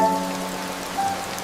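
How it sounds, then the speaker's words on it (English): Steady rain falls on surfaces as a soft, even hiss with faint scattered drops, continuous and unbroken, with no voices. "She watched the rain quietly, smiling at the calm it brought."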